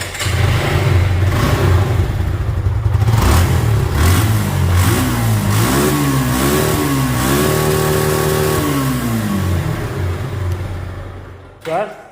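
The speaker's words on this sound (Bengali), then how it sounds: "সাউন্ড শুনে বুঝতে পারছেন সাউন্ড কন্ডিশন কিন্তু একেবারে নতুনের মতো আছে।" A second-hand Suzuki Gixxer double-disc motorcycle runs loudly up close, its engine note rising and falling through several revs midway before settling back and cutting off near the end.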